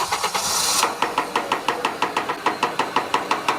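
A car engine cranks and catches, then idles with a steady, regular ticking knock repeating quickly throughout.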